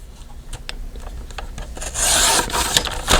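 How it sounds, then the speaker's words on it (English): Paper for a junk journal folio insert being trimmed, a short dry rubbing and rasping cut that grows louder toward the end, heard close and alone without speech. "I'm gonna trim off on the longer side here"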